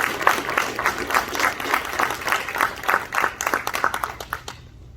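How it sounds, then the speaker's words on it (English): Applause from the audience at a high school and area technology center dedication ceremony, lively uneven clapping from a crowd that thins out and stops near the end. "let's give one more big round of applause to all our state legislators"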